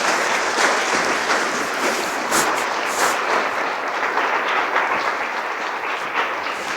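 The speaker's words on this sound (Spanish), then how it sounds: "dale un fuerte aplauso al Señor." A church congregation bursts into loud, sustained applause during a Spanish-language worship service, a dense, steady wash of clapping filling the room for several seconds without letting up.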